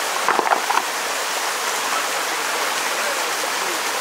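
Mountain river stream near the Aishkho pass flowing with a steady close hiss and splash of water, a few brief wooden knocks near the start, no talking.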